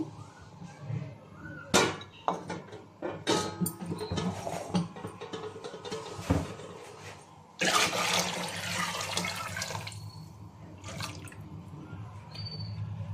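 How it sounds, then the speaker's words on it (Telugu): Chicken cooking liquid poured into a pot of measured rice for Arabian chicken kabsa, heard as close splashing and gurgling bursts with a longer sustained pour midway, alongside some kitchen clatter. "ఇప్పుడు ఈ చికెన్లో వచ్చిన వాటర్ కూడా మనము వేసుకుందాము."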